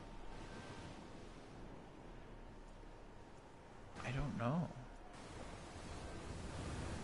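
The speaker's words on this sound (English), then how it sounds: "This is like waves on a beach." Gentle waves washing on a beach in the video game Sky: Children of the Light, a continuous low hiss, with a brief spoken phrase in the middle.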